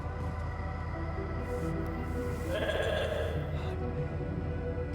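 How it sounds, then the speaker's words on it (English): Sheep bleating in the survival base-building game The Alters, a steady wavering bleat held for several seconds over a continuous game soundscape. "That's my little sheep."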